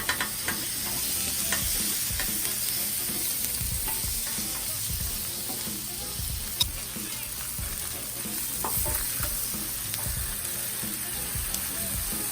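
Minced garlic frying on a Blackstone griddle next to asparagus, a loud, steady sizzle close up with scraping spatula strokes throughout and no one speaking.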